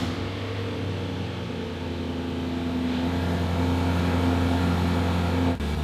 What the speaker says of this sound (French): écoutons un démarrage à froid et voyons si ça marche vraiment